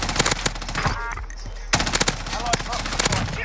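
FFAR rifle fire in a Call of Duty shooter rattles out in close, loud rapid bursts, pausing briefly in the middle before resuming with sharp repeated shots.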